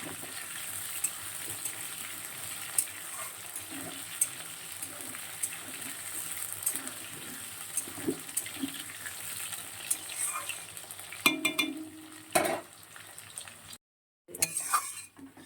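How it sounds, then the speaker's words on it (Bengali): Potatoes frying in a pan, stirred, for a home-cooked meal alongside katla fish: a steady close sizzle with occasional scraping and clinking of a utensil against the pan, growing busier near the end before a brief gap. "আলুটা এখনো ভাজা ভাজা হয়নি, আর একটু ভাজা হবে, লাল লাল করে ভাজবো।"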